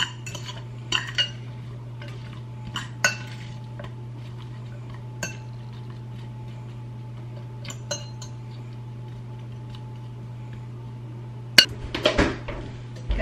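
A utensil tosses carrots and other vegetables in a dish for stuffed acorn squash, giving scattered light clinks and scrapes against the dish over a steady low hum, with no talking.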